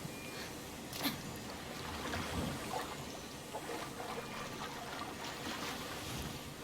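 Water in Immortals Fenyx Rising laps and trickles softly against a shore, a quiet continuous wash with occasional small splashes and sloshes, faint and steady with no voices.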